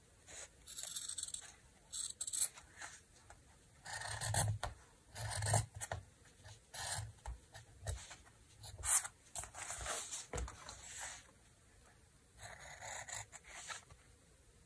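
Paper scissors snipping through large paper envelopes for a junk journal cover: quiet, close, irregular rasping cuts in short bursts separated by brief pauses.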